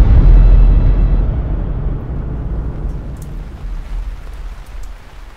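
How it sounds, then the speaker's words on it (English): A heavy downpour in Brazil's Atlantic rainforest produces a dense, roaring wash of rain with a deep low rumble, loudest at the start and easing slightly, with no voices. "As expected, our journey begins in a downpour."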